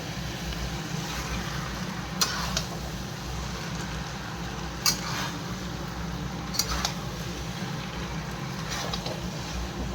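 Chow mein noodles frying in a pan, a continuous rushing sizzle that stays level throughout, with a few faint spatula taps and scrapes scattered across it.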